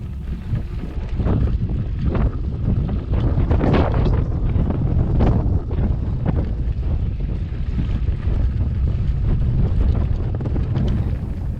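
Strong wind gusting on a mountain road while cycling, a loud, continuous roar buffeting the microphone, with rumbling low-end surges throughout and no talk.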